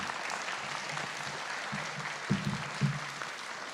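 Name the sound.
applause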